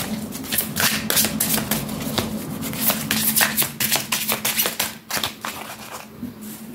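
Playing cards are laid and shuffled on a table in a dense run of quick papery flicks and slaps, close and steady, with a faint voice in the background.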